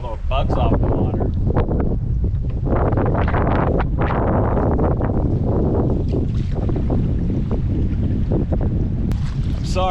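Strong gusty wind buffeting the microphone out on the water during a fishing trip, a constant roaring rumble with rushing surges and some flapping, someone talking faintly underneath.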